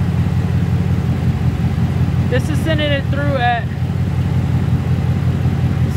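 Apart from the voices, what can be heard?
2019 Mustang supercharged engine idling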